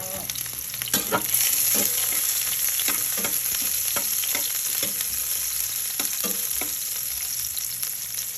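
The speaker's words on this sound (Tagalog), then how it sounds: "Halo-haloin mo lang siya. Hanggang halo-halo. Hanggang maghalo ng maghalo." Chicken afritada sizzling and frying in a pan while being stirred, a continuous crackling hiss with repeated scraping strokes throughout, close and fairly loud, no talk.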